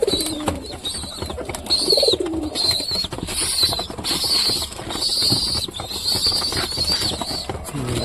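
Satin pigeons coo in a loft with their chicks, soft repeated low coos near the start and middle over a steady bed of higher chirping and rustling, with no one speaking.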